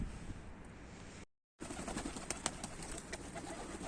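A blue baskı pigeon coos in a loft, soft repeated low calls over quiet background, broken by a brief silent gap before the cooing resumes.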